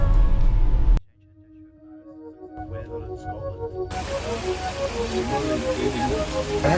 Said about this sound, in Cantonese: 就勁大雨啊！